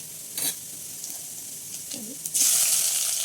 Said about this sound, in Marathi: इथं मी बीन्स फ्राय करून घेते